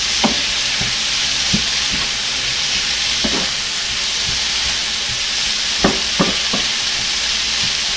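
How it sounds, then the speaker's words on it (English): Sausage and vegetables sizzle steadily in avocado oil in a hot pan, a broad continuous frying hiss broken by several sharp scrapes and knocks of stirring, loud and close with no talking. "I'm going to throw just a little bit more avocado oil in. Give it a little stir, and then we're going to add that sausage."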